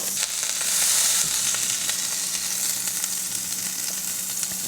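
A burger patty sizzles loudly on a hot pan beside two onion patties. The dense frying hiss is steady and close, with faint crackles running through it.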